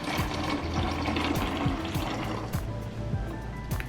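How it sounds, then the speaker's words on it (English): Celery juice pours into a container in a quiet trickle, its soft liquid splashing and gurgling running faintly and steadily close by. "I'm just going to pour that in my container that I have on the side."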